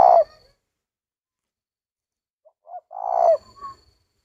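A tame male spotted dove cooing close by while nesting, a short low call, a pause, then a longer rolling coo with a brief trailing note.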